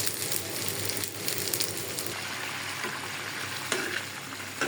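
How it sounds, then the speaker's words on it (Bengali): Pigeon meat frying in a pan gives a steady, close sizzle with stirring sounds throughout, no talk over it. "আর কবুতর রান্নাও হয়ে যেতেছে, ভাজা হয়ে গেছে"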